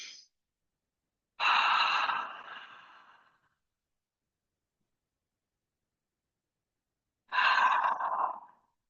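Two long, deep breaths drawn and released slowly during a seasonal breathing and movement practice, each a breathy rush lasting about two seconds with silence between, close and clear with no talking.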